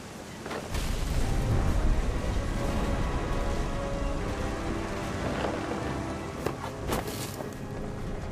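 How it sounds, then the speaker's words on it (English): Steady heavy rain in a thunderstorm from the video game What Remains of Edith Finch, with a constant wash of rainfall and several sharp thunder cracks rising above it, no voices. "The thunder sounded much too close and full of angry power."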